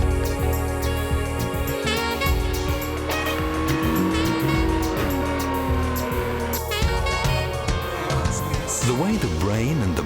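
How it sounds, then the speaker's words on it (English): A very fast car, one of the quickest on Earth and capable of 325 km/h, runs at high speed on a closed road with loud, sustained engine drone and shifting pitch throughout, while a voice speaks over it. "One of the fastest cars on Earth, capable of 325 kilometers per hour."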